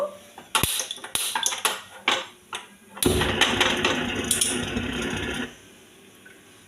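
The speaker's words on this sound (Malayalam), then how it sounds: "ഗ്യാസ് കത്തിച്ചു, പാൻ വെച്ചു." A pan is set down on a gas stove amid loud clattering, with metallic clanks and knocks of cookware and utensils followed by a sustained rattling scrape that stops abruptly, leaving near silence.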